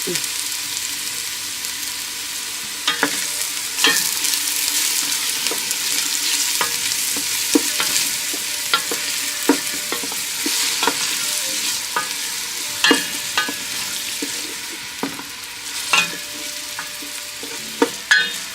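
Vegetables for a San Marzano marinara sizzle and fry steadily in a pan while a utensil stirs them, with frequent scraping clicks and knocks over a continuous close hiss.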